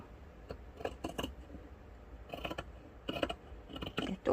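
Scissors cutting the pocket opening of a jacket during sewing, several short crisp snips in separated clusters, close and fairly quiet, with no talk.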